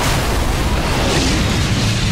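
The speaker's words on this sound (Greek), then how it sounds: "Πάλι εκρήξεις." Explosions in Metal Gear Solid V: The Phantom Pain produce a loud, sustained roaring rumble of blasts with no speech over it.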